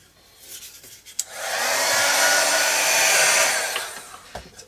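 A hair dryer blows over paint on a mixed media canvas, a close, loud steady whoosh that swells up, holds for about two and a half seconds and fades, with small handling knocks before and after.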